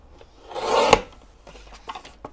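Scissors or a blade cut through 6x6 craft paper for a junk journal: one close, dry rasping stroke swells and ends in a sharp snip, followed by a few faint paper rustles.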